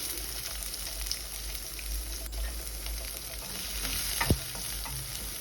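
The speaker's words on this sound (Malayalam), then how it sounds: "ഇനി ഇതിലേക്ക് നമുക്ക് അരിഞ്ഞു വെച്ച സവാള ഇട്ട് കൊടുക്കാം." Chopped onion frying in oil with ginger and green chilli for a biryani base, a soft continuous sizzle with occasional spoon scrapes and a sharp clink near the end, close and quiet.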